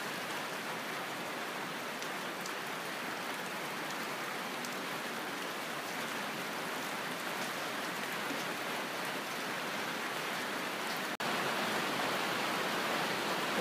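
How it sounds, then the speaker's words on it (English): Steady rain falls outside in an even, continuous hiss of drops on surfaces, unchanging throughout with no voices. "it's raining outside"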